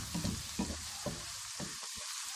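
Ginger, garlic and green chili paste fries in hot oil with a loud, close, continuous sizzle and some soft stirring underneath.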